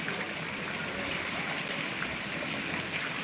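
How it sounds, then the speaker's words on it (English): Water spouting from the nose of a horse statue on a fountain in Salzburg, Austria, a steady rushing splash that stays constant and fairly loud throughout, with no talk. "There's actual water coming out of the nose of the"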